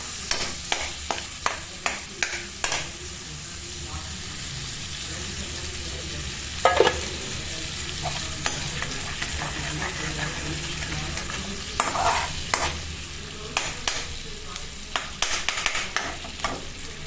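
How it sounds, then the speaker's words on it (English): Garlic pieces toast in oil and butter with a steady sizzle, close and fairly loud. A quick run of sharp stirring clicks comes at the start, then scattered scrapes and taps follow, with no voices. "add the garlic pieces and toast them for 2 to 3 seconds"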